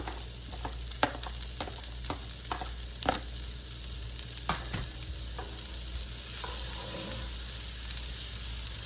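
Garlic and onion sautéing in a pan for chicken sisig, with a low steady frying hiss and intermittent spatula taps and scrapes at moderate distance.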